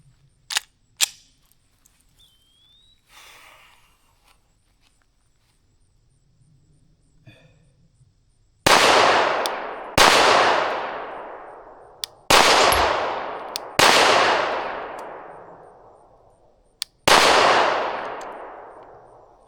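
Five loud, separate pistol shots from a Glock 19X firing 147 grain rounds at a range. Each sharp report is followed by a long ringing decay, spaced a second or two apart after a few quiet clicks and handling sounds.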